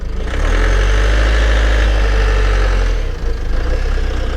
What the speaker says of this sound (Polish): samochód odpalił tak jak słyszycie